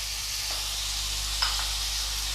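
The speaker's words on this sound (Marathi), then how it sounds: "आता आपण ह्या शेवग्याच्या शेंगाचे तुकडे आणि बटाटा घालून घेऊया." Drumstick pod pieces and potato dropped into a hot pan for a Maharashtrian val curry, giving a steady hiss of frying with a couple of brief stirring scrapes, close and alone.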